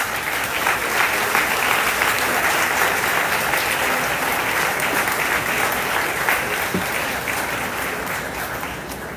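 Sustained audience applause at a book fair inauguration in Guatemala, dense even clapping from a large crowd holding steady throughout and easing slightly toward the end.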